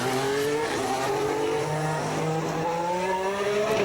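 The Red Bull RB11 Formula One car, in camouflage livery, screams at high revs in pre-season testing at Jerez, a loud, sustained engine wail with shifting pitch as it passes, no talk over it.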